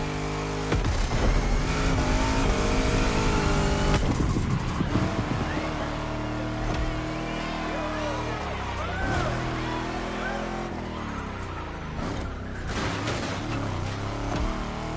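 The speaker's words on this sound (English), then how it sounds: "Let's hear these engines." Car engines revving at an outdoor motorfest in Oahu, Hawaii: throttle blips rise and fall over about fifteen seconds, loud and close, with ambient crowd noise mixed in.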